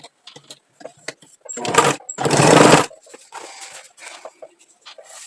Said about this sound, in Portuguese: Então, vamos lá costurar mais essa tira desse lado aqui.